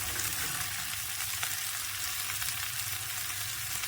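Soaked cashews, coriander and green chilies fry together in a kadai for a dhaba-style Afghani egg curry, sending up a continuous close sizzle with faint spatters and no voices.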